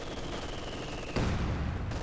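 A mortar round lands in Company of Heroes 2 amid ongoing battle noise, a sudden heavy boom cutting into a steady wash of distant gunfire and rumble, no voices.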